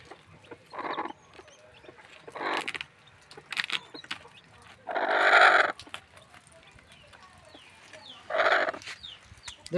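Short clucks and squawks from a hen that lays thirteen eggs come in separate bursts a second or two apart, fairly close, with one longer harsh call in the middle and quiet rustling between.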